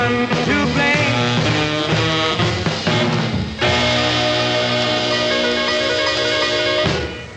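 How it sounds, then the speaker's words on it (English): Fats Domino's 'Ain't That a Shame' plays over a radio broadcast, a loud, steady rhythm-and-blues recording with piano, horns and vocals that carries the whole stretch before fading slightly at the end. "That's the sound of a fat man, Fats Domino, and a thing called Ain't That a Shame"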